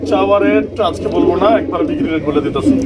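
A pair of red homing pigeons coos softly at a bird market, the low cooing running beneath nearly continuous nearby voices of people talking.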